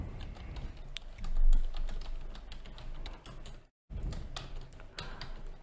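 Continuous rapid typing on a computer keyboard while entering C# code, with dense clicky keystrokes throughout and one brief silent break near the end.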